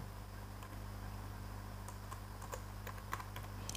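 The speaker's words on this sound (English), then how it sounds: "you have to just type MySQL" Keys clack on a computer keyboard in a short, irregular burst of typing, faint and close over a steady background hum.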